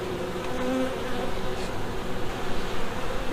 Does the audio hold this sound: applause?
no